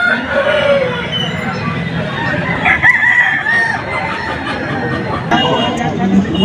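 Chickens and a rooster pant in strong morning sun, with a rooster's crow and clucking heard over steady background noise and someone talking.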